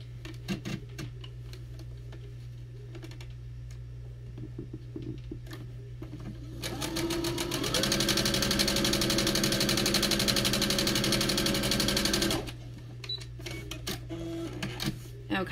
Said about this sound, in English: We're going to stitch straight on that line.